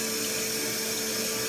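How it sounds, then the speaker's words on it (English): Cold tap water runs steadily into a kitchen sink, filling a shallow cold water bath for cooling a brewing pot during extract beer making; a continuous, close rushing flow with a low hum beneath and no voices. "I'm going to go ahead and make a cold water bath in the sink."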